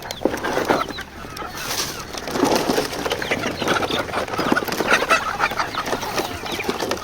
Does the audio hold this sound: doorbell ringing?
no